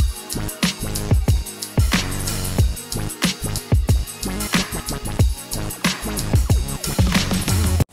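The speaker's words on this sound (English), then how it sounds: "It's a beat from Native Instruments Machine and it sounds like this." A funky drum beat programmed on Native Instruments Maschine plays alone, with punchy kicks and snappy hits in a syncopated groove over a bassy pitched layer, loud and close, with no talking.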